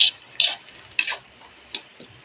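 A utensil stirs food with soy sauce in a pan, giving sharp, sparse clinks and scrapes, about five distinct taps spaced irregularly, near and fairly quiet with no talking.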